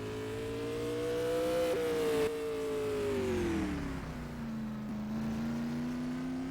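A supermodified race car on a time trial lap at Oswego Speedway, its engine roaring loud and steady, the pitch dropping smoothly as it passes and pulls away, with no one talking.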